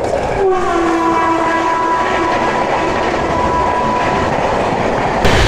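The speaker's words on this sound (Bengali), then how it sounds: "এখন আমাদেরকে ওভারটেক করবে 123-02 হাওড়া নিউ দিল্লি রাজধানী এক্সপ্রেস।" The Howrah–New Delhi Rajdhani Express overtakes on the adjacent track, with a loud, steady roar of rolling wheels and rail clatter close by, and a long horn blast near the start.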